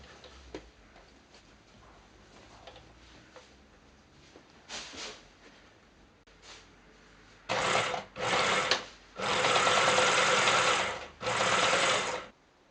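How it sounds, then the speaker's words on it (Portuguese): Sewing machine stitching fabric for a cloth shoe organizer: faint ticking handling at first, then several bursts of loud, fast, whirring stitching, close up and alone. "Vou abrir e costurar aqui."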